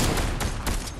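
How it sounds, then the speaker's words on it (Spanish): Rapid bursts of P90 gunfire in Fortnite on PS5 crackle in quick succession over a loud, dense background, close and sharp. "Ahora me hace la P90, disparos, disparos."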